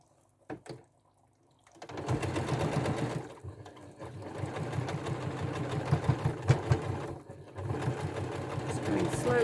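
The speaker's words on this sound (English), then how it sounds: "sewing it through again so that I can trim off the length" A sewing machine stitches fabric in bursts, its motor buzzing steadily for several seconds at a time with brief pauses, close and clear, as a person speaks between runs.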